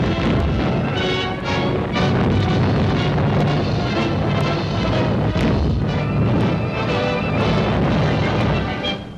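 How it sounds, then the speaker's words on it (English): Dense, rumbling bursts of deep booms roll continuously, heavy and muffled, with crackling and splashing textures layered throughout: sodium exploding in a lake, giving off smoke. "As the water seeps in, smoke rises through a series of muffled explosions."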